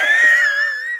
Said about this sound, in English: Sorry, you made me yawn.